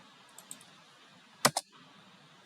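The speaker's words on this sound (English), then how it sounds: "So let me type it right." A few sparse key presses on a computer keyboard while entering values into ANSYS APDL, isolated crisp clicks with one louder double tap near the middle, close up in a quiet room.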